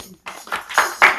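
Scattered audience clapping at a Hindu devotional kirtan and katha gathering, a few loose irregular claps rising briefly, close and moderately loud.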